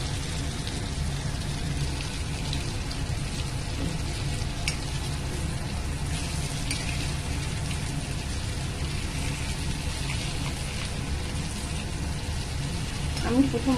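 Schezwan chicken with bell peppers fries in a pan with a steady, dense sizzle that continues throughout, with occasional stirring and a voice talking over it.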